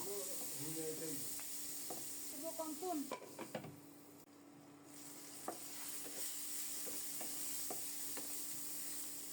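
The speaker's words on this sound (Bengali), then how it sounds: "কুচিয়ে রাখা পেঁয়াজ। নেড়ে চেড়ে ঢেকে ঢেকে পেঁয়াজটাকে একটু বাদামি করে ভেজে নেব" Chopped onions fry in a pan as they brown, giving a quiet, steady sizzle with scattered clinks and stirring scrapes. Brief voice-like sounds come early on, and the hiss fades after a lid seems to go on.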